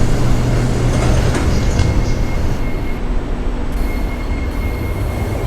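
A subway train runs steadily, its rumbling wheels and carriage noise loud and continuous throughout, with faint wheel squeal and no voices.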